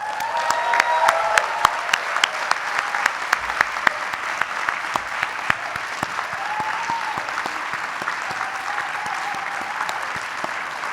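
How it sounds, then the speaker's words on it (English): Steady audience applause at a business school graduation recognition ceremony, a large crowd clapping continuously with sharp individual claps throughout, in a reverberant hall. "offer applause for those who have supported you in your time here"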